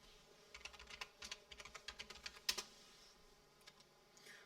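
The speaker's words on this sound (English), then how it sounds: "I do a lot more typing than I need to" Someone types on a computer keyboard in quick irregular bursts of sharp key clicks, close and fairly quiet, with a short pause before a few final taps and no talk.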